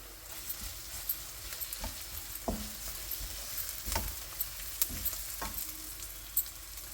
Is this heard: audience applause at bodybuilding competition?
no